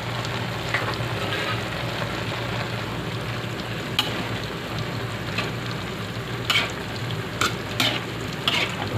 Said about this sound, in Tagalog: Halo-halo lang po natin.